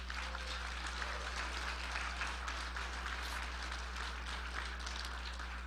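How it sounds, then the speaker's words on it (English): A dinner audience at a Hilton hotel event's inaugural night applauding the hotel staff, a dense, steady patter of many hands at moderate distance over a low constant hum. "So a big round of applause for all these Hilton people."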